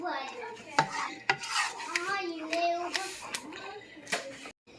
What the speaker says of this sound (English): And then we're gonna stir this and bring to a boil.